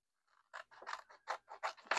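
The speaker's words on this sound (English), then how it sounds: "So I cut the top off of that one, cut it right there on that one," Scissors snipping the top off a paper cash envelope, a quick run of about nine crisp close cuts in steady rhythm, quiet and with no voices.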